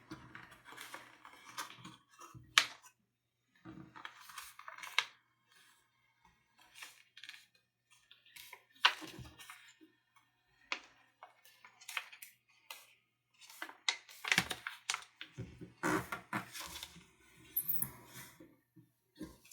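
Sheets of paper being folded into a Plasma X paper airplane, with soft crinkles, brisk creasing swipes and light taps arriving in irregular bursts separated by quiet pauses, close by and with no talking.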